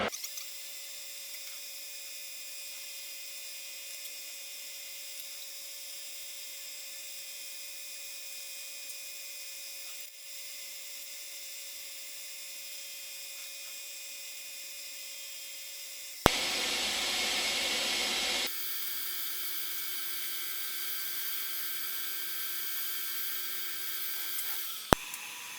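A steady high-pitched whirring of a small rotary tool sanding a ring runs throughout, briefly changing to a harsher, louder grinding burst before settling back into a steady hum.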